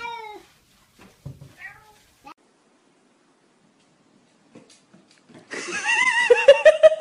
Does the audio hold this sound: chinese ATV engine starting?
no